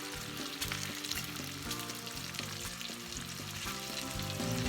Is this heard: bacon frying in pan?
yes